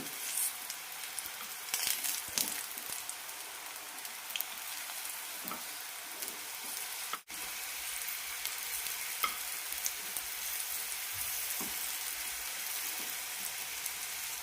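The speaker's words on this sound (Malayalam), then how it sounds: "ഹൈ ഫ്ലെയിമിലിട്ട് തന്നെ വറുത്തെടുക്കാം" Oil hisses and crackles steadily as jaggery sweet potato snacks fry on high flame in a pan, with occasional soft scrapes and pops throughout.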